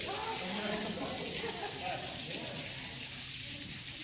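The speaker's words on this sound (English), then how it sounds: "There's a little waterfall people are playing under." A small waterfall at Starved Rock spills with a steady broadband rush of falling water, heard from nearby as a constant wash, with faint voices of people playing beneath it mixed into the roar.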